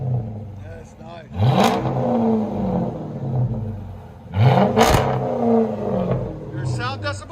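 A 2005–2010 Chrysler 300C with a 5.7L HEMI V8 and aftermarket exhaust revs twice in loud, sweeping bursts, rising and falling over a steady idle rumble, while people talk nearby.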